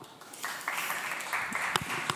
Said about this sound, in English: Big round of applause, let's go.